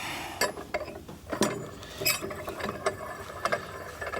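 A snowmobile clutch being taken apart, with close metallic clicks, ratcheting and clinks of parts in irregular bursts against a quiet background.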